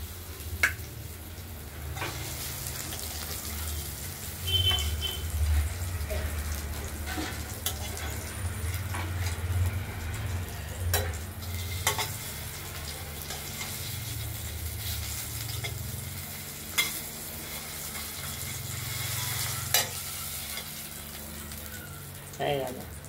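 Poppy-seed-paste-stuffed ash gourd slices frying in oil in a pan, a steady soft sizzle with occasional clinks and stirring sounds, while a voice talks intermittently over the cooking.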